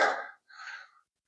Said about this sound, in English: I'm already panting a little bit